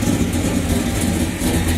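A big block Chevelle with a two-and-a-half-inch, two-chamber exhaust idles loudly nearby, giving a deep, steady, rumbling burble with a slightly lumpy rhythm and no talk over it.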